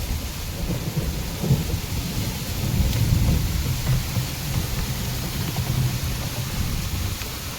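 A steady roar of wind and heavy rain fills the air, with a low rumbling undertone that swells slightly midway.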